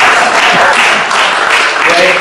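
Audience at an indoor talk breaking into applause, a thick, sustained wash of clapping that stays loud and even from start to finish, with no pauses.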